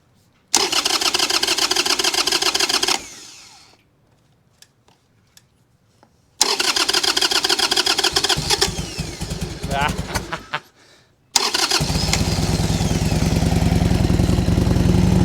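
A Harley-Davidson Sportster V-twin motorcycle is started on full choke after sitting about a year. The engine fires up loud and close three times, running a few seconds each with stalls and near-silence between, the last start roaring steadily.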